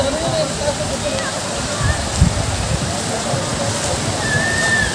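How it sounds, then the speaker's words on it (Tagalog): River water flowing downstream from a mountain rushes in a steady broadband wash, with some sloshing and splashes close by, and a voice talks over it. "Ayan, dito kami sa may ibabaan ng ilog."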